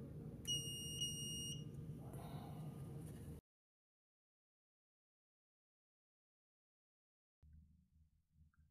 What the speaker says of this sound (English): Wait for the beep indicating a successful read.